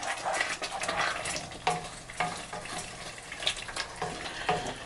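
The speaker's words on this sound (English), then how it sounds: "So we'll keep stirring the fagioli sauce." A pot of pasta e fagioli sauce is stirred on the stove, the spoon scraping through the thick mixture in a steady run of soft strokes against a low background sizzle, with no talking.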